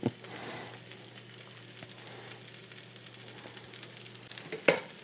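An omelet sizzling in a frying pan, a soft steady hiss close by with a low hum underneath and a sharp clatter of the pan or utensil near the end.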